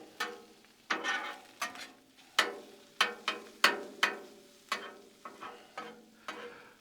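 A spatula scrapes and taps through a sausage and egg mixture on a Blackstone griddle, sharp metallic clicks and scrapes in an irregular rhythm over a soft sizzle, close, with no talk.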